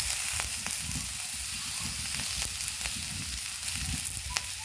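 Cauliflower pieces fry in a pan, a dense, constant close-up sizzle with crackling pops and occasional faint stirring taps throughout, no talk.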